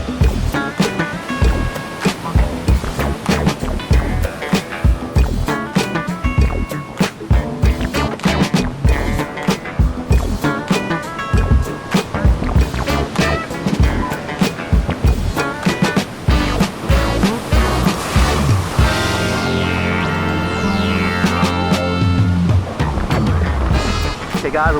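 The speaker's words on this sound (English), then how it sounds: "some fun little waves" Ocean surf at the St Francis Bay groyne roars and washes continuously and loudly, close up, with churning water filling the whole stretch and a tonal musical layer running over it.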